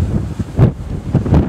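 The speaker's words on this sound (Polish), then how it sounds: "jest zimno i wiatr wieje" Strong wind gusts roar and buffet the microphone in low rumbling surges, loud and close, on the summit of Tarnica in the Bieszczady Mountains.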